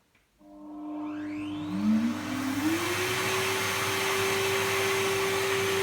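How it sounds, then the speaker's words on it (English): A Henry dust extractor vacuum spins up with a rising whine that settles into a steady, fairly quiet drone and runs on alone without pause. "I'm just going to have to trust my dust extractor unit, the Henry"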